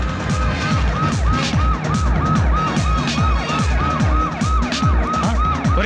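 A police siren wails loudly and without pause, its rising and falling sweeps repeating steadily and close by throughout, with no voices.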